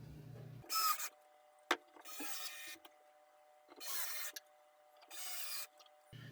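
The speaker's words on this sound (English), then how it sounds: "I'm just using the Kreg screws in the pocket holes that I drilled earlier." A drill drives Kreg screws into pocket holes to attach a wooden coffee table base to its top, whirring in four short, close bursts separated by quiet gaps with a single sharp knock.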